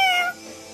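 A short, clear meow from a cat or cat-sounding toy, close and fairly loud, fading quickly into quiet background.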